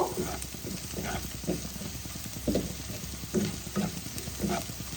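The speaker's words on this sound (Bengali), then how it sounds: "পেঁয়াজটাকে আমি হালকা ব্রাউন কালার করে নেব" Onions fry in a pan for a Bengali rohu fish curry, a steady close sizzle broken by regular spatula stirring scrapes.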